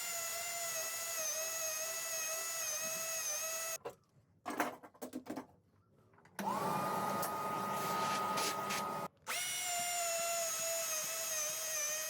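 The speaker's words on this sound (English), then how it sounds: "change out now to a 22mm bit for my clearance hole" A high-pitched powered drill drilling a clearance hole with a 22mm bit whines steadily, stops and restarts, cutting off briefly amid clunks and handling noise before running again at full speed.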